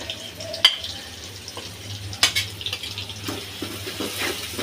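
Dry spices fry gently in oil on a low flame, a soft sizzle broken by sharp clinks and scrapes of a utensil against the pan, with a low steady hum underneath.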